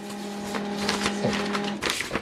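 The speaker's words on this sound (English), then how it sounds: "this is how to copy a document from this printer" An HP LaserJet printer copies a document, its motor humming steadily while paper feeds through with rhythmic whirring and clicking pulses, loud and close, with no talking.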